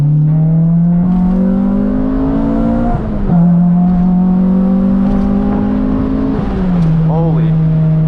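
A Honda Integra GSR engine with an aftermarket exhaust revs hard through VTEC pulls, a loud rising drone climbing steadily, dropping briefly at each gear shift and climbing again, heard from inside the car.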